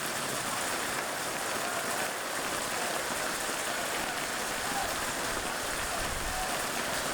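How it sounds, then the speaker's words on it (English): Heavy rain pounds down at an outdoor boys' lacrosse game, a dense, constant hiss of downpour that drowns out other sounds. "Just the rain just pounding down now."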